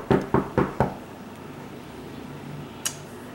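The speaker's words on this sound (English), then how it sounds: "there came a knocking" Four quick, evenly spaced knocks on a door sound close and sharp, followed by a quiet room hum and one faint later tap.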